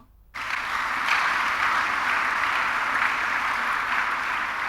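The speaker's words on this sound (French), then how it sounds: "Acclamons la parole." A church congregation breaks into sustained applause, a dense wash of clapping that starts abruptly after a brief quiet moment and holds steady and loud throughout, with no voices on top.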